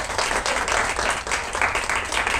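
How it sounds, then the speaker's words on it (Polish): A few seconds of steady applause from a crowd at a talk and Q&A meeting, many hands clapping at once, close and fairly loud throughout. "Tak, oklaski jeszcze raz."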